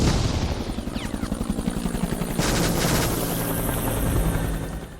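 A helicopter flies along the coast near Mirbat, Oman, and tries to land during a battle, its rotor thumping in a fast, steady pulse, loud and close, with a rushing roar beneath.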